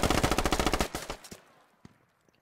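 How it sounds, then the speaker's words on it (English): A rapid burst of automatic gunfire in the video game Squad rattles off about a dozen evenly spaced shots, then a couple of isolated single shots fade out. "And there is definitely gunfire."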